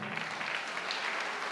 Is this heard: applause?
yes